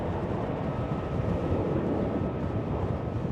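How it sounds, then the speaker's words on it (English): A British Airways airliner takes off at Schiphol airport in Amsterdam on a windy day, its steady, loud broadband engine roar filling the scene without a break, with wind buffeting the microphone. "The British Airways just took off from center"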